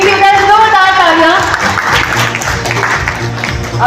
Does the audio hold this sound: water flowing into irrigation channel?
no